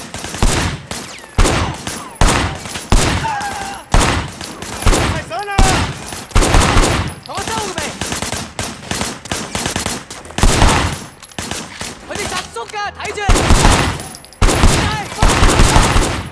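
Rapid gunfire in the open-world action game Sleeping Dogs: dense, loud bursts of shots crack repeatedly through the whole stretch, near and sharp, with occasional game sound effects between them.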